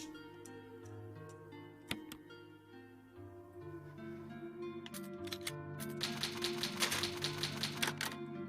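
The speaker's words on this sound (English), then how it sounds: "I love typewriter sounds." Typewriter clacking from the save screen in the video game Resident Evil, a quick run of sharp mechanical keystrokes with a bell-like ding, over soft background game music, growing busier and louder toward the end.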